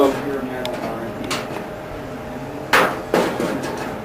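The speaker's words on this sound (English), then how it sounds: "And we're going to cleco." Clecos snapping into pre-drilled holes in sheet metal for a boot cowl, several sharp metallic clacks and clicks spaced irregularly, two louder near the end, over a faint room background.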